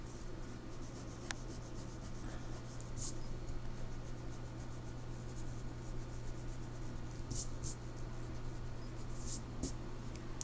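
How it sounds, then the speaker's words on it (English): Pencil work on paper, a steady soft rubbing and scratching during face drawing as light blocking lines are erased, with faint ticks over a constant low hum and no talking. "erase my blocking lines so that they're unbelievably light"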